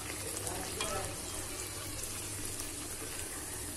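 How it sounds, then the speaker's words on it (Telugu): Garelu, South Indian lentil medu vada, frying in hot oil as they are turned over, giving a dense, continuous bubbling sizzle at moderate level, close by, with no talking. "దీన్ని ఇప్పుడు ఆపోజిట్ గా వేయించుకోవాలి."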